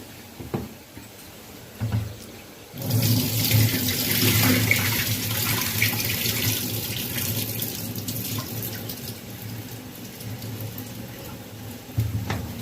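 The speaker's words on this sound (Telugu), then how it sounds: "ఈ నీళ్ళు గుమ్మరి చేసుకొని" Water is poured out in a kitchen while cooking, a loud continuous splashing gush lasting several seconds before tapering off, framed by a few clunks of a pot.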